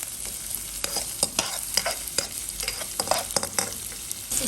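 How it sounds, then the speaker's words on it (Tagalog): Garlic and onion sauté in a pan for salmon sinigang, a close, continuous sizzle broken by frequent sharp clicks and scrapes of a stirring utensil, and nobody speaks. "ginisa ko muna yung bawang"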